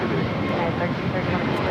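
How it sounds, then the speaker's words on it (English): An American Airlines Airbus A321neo jet taking off at LAX, a steady, broad engine roar at moderate distance with no break. Speech seems to run under it. "This is American Airlines 2023 taking off to Charlotte on an A321neo."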